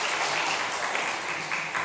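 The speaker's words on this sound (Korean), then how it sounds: "자리에서 잠깐 일어나면 박수로 축하하겠습니다" A church congregation at a Korean Sunday service claps steadily in congratulation, a dense, even round of applause throughout with no talking.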